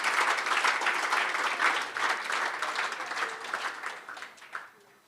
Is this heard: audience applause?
yes